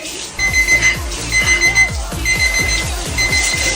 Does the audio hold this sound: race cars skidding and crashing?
no